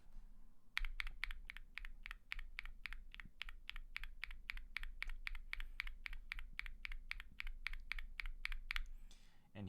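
Steady, rapid typing on a keyboard with stock Durock POM linear switches, a dense run of crisp, even keystrokes close to the listener with no talking.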